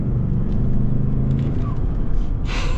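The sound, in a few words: Lincoln Navigator Black Label twin-turbo V6 engine accelerating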